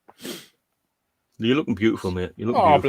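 A single short sneeze near the start, followed after a pause by someone talking.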